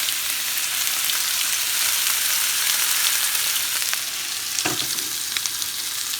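Meat sears in a hot pan at a van campsite, a steady loud sizzle and crackle running throughout, with a brief clatter of the pan near the end.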